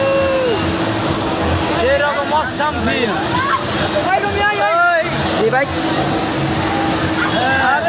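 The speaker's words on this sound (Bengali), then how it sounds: "এই তো আমাদের নৌকাটা স্টার্ট হয়ে গেছে" A motorboat engine runs with a steady drone beneath water rush, while people talk and exclaim loudly over it throughout.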